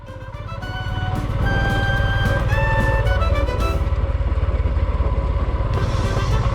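Motorcycle riding a Bosnian trail, its engine revving up and then holding a steady, rapid throbbing drone up close, with rattling and rough-ground noise underneath.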